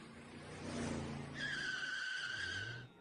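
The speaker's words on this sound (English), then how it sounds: "Is that a car?" A car engine rises as the vehicle arrives, then a sustained high tire squeal as it skids to a stop, loud and close in a scene from a fan-made gaming movie.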